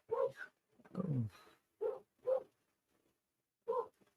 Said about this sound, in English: Dogs are going wild tonight.